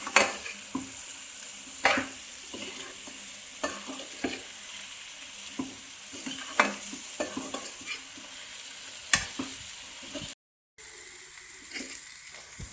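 Chicken pieces fry and sizzle in a pan, stirred with repeated scraping knocks of a spoon against the metal in an uneven rhythm, close and steady with a brief cut near the end.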